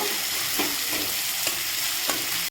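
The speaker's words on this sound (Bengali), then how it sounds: "একটা পেঁয়াজ কুচি আমি এতে দিয়ে দিলাম এবারে এটা একটু হালকা ভেজে নেব" Chopped onion fries in a pan with a close, continuous sizzle and a few light stirring scrapes repeating about every half second.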